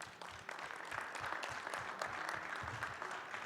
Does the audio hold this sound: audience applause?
yes